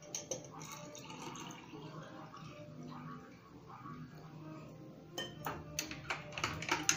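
Cold water splashes steadily into a glass of raw mango panna, a soft continuous pour with a few sharper drips and clinks near the end, fairly quiet.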